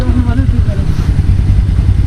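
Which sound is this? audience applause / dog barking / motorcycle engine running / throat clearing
motorcycle engine running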